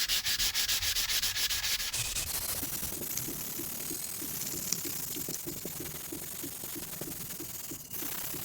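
Sanding a Les Paul guitar kit body in preparation for a sunburst finish, a continuous hissing rub that settles into a regular back-and-forth stroke rhythm, close and steady, with no talk.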